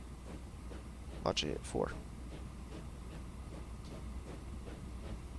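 A train crawls slowly up a grade in the railway game Transport Fever 2, giving a low, steady rail rumble with soft rhythmic clicking beneath someone talking.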